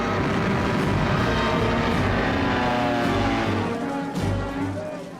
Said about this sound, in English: the Stukas and medium bombers proved devastatingly effective.